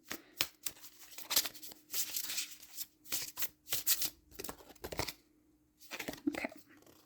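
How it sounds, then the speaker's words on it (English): Animal oracle cards being shuffled by hand close up, a series of quick riffling, flapping bursts with short pauses between them, ending in a final brief flurry. "I'm going to give it a little extra shuffle."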